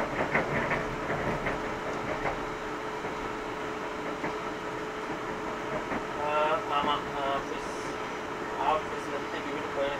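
A passenger train runs on rails, heard from inside the carriage as a steady rumbling hum with occasional wheel clicks and squeals. Faint voices sound in the background.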